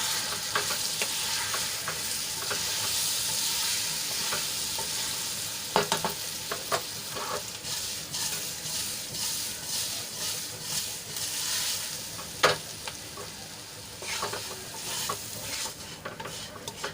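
Steady sizzling in a hot pan as a spoon stirs and scrapes through Gujarati patra with coriander-cumin powder in a tempering, occasional sharper clinks, continuous and close.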